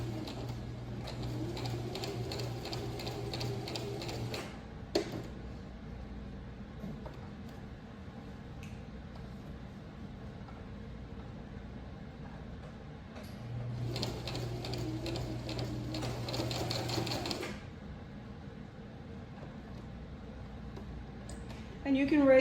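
A sewing machine stitches a continuous placket in two steady bursts of fast, even stitching, the first about four seconds long and the second about four seconds, separated by quieter handling of fabric and pins.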